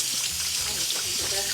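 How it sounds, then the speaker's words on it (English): Water runs in a continuous bright rush, close by, with voices talking over it. "Hear that water?"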